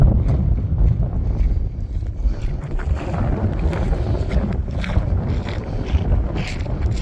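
Strong, steady wind buffets the microphone across the open Bonneville Salt Flats, a dense low rumble with gusty surges that carries on throughout with no one talking.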